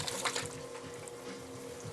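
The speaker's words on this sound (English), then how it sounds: "what we're going to do is add our green beans. You do want to add the juice in there with them" Canned green beans and their juice pour into a pot in a steady, wet splashing stream that runs throughout at moderate volume.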